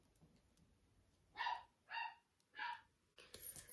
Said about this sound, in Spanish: Y mis perros creo que se están matando.